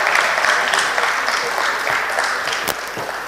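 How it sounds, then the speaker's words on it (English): An awards-ceremony audience applauds, a dense and steady wash of clapping from a large crowd that carries on throughout. "Let's put our hands together for them."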